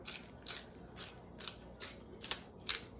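A hand pepper grinder turning in short repeated bursts, six or so gritty ratcheting grinds spaced about half a second apart, close and fairly quiet with no talking.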